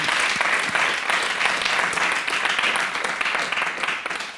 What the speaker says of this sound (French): il faut l'applaudir quand même